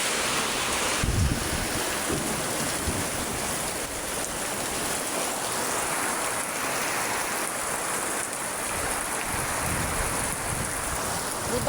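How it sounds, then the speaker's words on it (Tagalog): Strong wind gusting during a rainstorm, a steady loud broadband roar with rain hiss filling the whole stretch and no voices. "Nakakatakot ang hangin."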